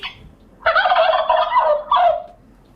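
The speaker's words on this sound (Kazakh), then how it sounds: "Мысалға, күрке тауық қандай дауыс шығарады" A turkey gobbling from an animal sound poster: one short call, then a loud, rapid warbling gobble of about a second and a brief final burst, alone and close.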